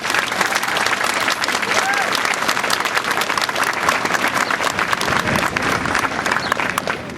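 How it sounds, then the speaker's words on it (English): Dense, steady audience applause fills a firehouse dedication ceremony in Essex County, loud and continuous throughout with crowd noise mixed in. "I just want to applaud you guys because this is appropriate."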